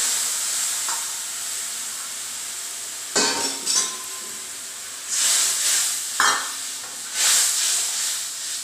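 Mustard-poppy spice paste sizzles in a pan as water goes in, with bursts of hissing steam and sputter over a steady low frying hiss.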